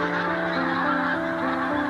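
Geese migrating from Greenland honk over barley fields in the Montrose Basin, Scotland, a dense flock calling continuously with overlapping honks, loud and steady.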